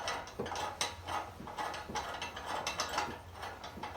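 A clamping bolt on a crossbeam post connector is tightened with a ratchet, giving a run of quick, evenly spaced clicks close by, about three to four per second, quiet and with no talking.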